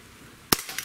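Single sharp crack of a Glock-style .177 blowback airgun pistol shot, close and loud, followed by a brief metallic clack and a second faint click after a quiet lead-in.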